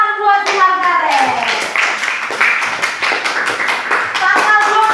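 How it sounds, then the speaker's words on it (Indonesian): A class of schoolchildren claps hands together in a classroom, a loud, close burst of rhythmic claps with children's voices calling out over and around it. "tepuk tangan buat si Margaret"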